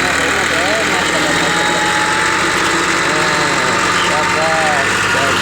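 A tractor engine runs steadily while the tractor backs out of a spot in a village, a continuous mid-pitched drone with excited voices talking over it throughout.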